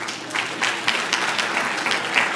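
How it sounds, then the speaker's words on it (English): A seminar audience at a Teach For America session gives itself a round of applause, with steady, moderately dense clapping from many hands that holds evenly for a couple of seconds. "Give yourselves a round of applause"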